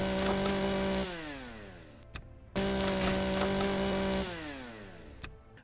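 Tool felling trees in Empyrion Galactic Survival on hard mode, a buzzing chainsaw-like drone that runs steadily, winds down in pitch, cuts off briefly and then repeats the same cycle.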